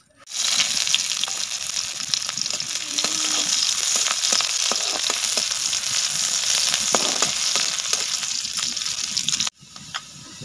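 Shrimp frying in hot oil for a shrimp curry, a steady dense sizzle with scattered pops and crackles, close and continuous, cutting off briefly near the end.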